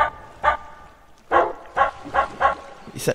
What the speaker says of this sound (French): Écoute le chien